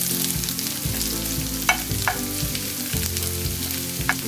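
Onion frying in hot oil with green chilies and curry leaves for masala dosa filling, a steady sizzle close by, broken by several scraping stirs and a few sharp clinks of a spoon on the pan.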